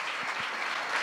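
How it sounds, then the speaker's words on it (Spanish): Energetic audience applause welcoming a candidate guest onto a late-night talk show stage, a steady dense wash of clapping that holds for the full second without pause. "Me gustaría que recibamos enérgicamente con un aplauso"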